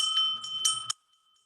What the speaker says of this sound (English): is a little bell to mark the end of 1 minute.